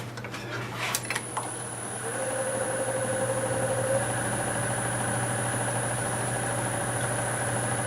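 Steady motor hum and a high whine from a wood lathe spinning a cracked black walnut blank at nearly 800 RPM, opening with a few light metallic clinks before the tone settles into an even, continuous drone.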